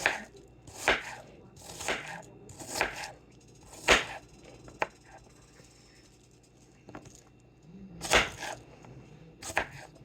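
A knife chops a vegetable into cubes on a cutting board for stuffed peppers, giving sharp, irregular thuds in small bursts with quiet gaps between them.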